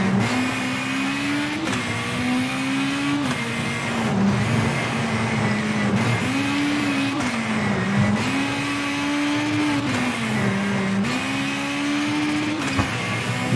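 A rally car's engine revs hard and steadily in the V-Rally 4 video game, the pitch rising and dipping through repeated gear shifts under a constant loud drone with no talk.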